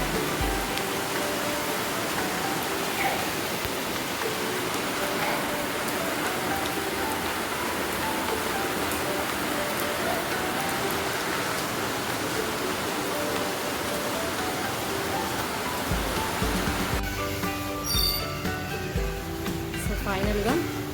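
Heavy rain falling in a garden of rose plants during the monsoon, a dense, steady hiss of drops pattering on leaves and surfaces, close and constant, with some faint clatter near the end.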